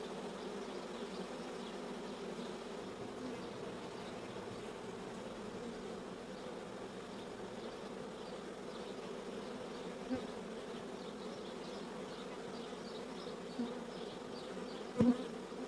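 A swarm of honeybees is buzzing steadily as it enters an empty hive, a dense continuous hum that lasts throughout, fairly quiet, with a couple of small knocks near the end.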